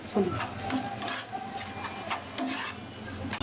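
Prawn paste stuffing for pointed gourd dolma, seasoned with salt and a little turmeric, frying in a pan: a steady close sizzle with repeated scraping stirs running throughout, no voices.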